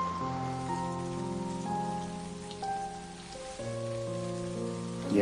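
Steady rain and wind at Qinghai Lake in summer make a continuous hissing wash, heard beneath sustained musical tones that dominate throughout.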